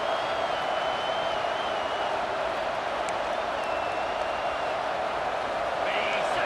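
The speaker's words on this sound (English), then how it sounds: "Listen to this crowd just shaking the girders of this place trying to help their defense." A roaring stadium crowd in the EA Sports College Football 26 video game, a dense, steady wall of noise that holds at full volume with no breaks throughout.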